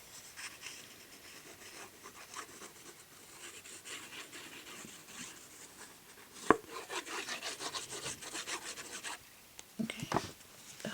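Fingers rubbing glue along the edges of a gift card for a homemade Christmas ornament holder, soft dry scratchy rubbing strokes, quiet and close, with a couple of sharper taps.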